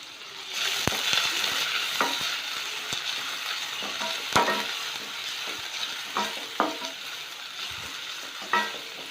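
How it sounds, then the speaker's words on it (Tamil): Large onions sauté in oiled cookware for mutton kola urundai, giving a steady close sizzle with repeated sharp scrapes and clacks from stirring throughout, with no voices. "இது கொஞ்சம் வதங்கி வரட்டும்."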